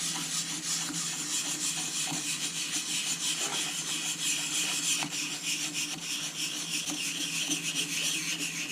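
Steady, close rasping of wood being scraped with a hand tool, with continuous rhythmic strokes and no voices.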